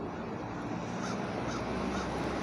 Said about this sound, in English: we got a little blackbird, a couple blackbirds